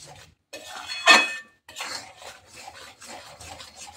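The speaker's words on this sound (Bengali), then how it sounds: "এভাবে নাড়তে থাকতে হবে খিরসাটা, তাহলে খুব সুন্দর হবে।" A spoon stirs khirsa, milk solids, in a pan in short scraping bursts with a light metallic clink, close and fairly quiet, with gaps of near silence between strokes.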